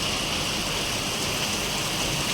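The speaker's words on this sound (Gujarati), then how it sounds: "વરસાદ તો જો ધોધમાર પડવા માંડ્યો છે." Heavy rain pours steadily outside a village shop, a dense continuous hiss of drops on surfaces, close and loud with no talking.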